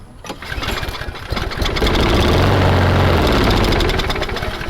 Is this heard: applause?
no